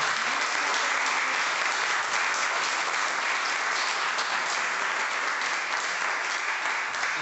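Sustained applause from a church congregation, steady and loud throughout with dense clapping and no pauses.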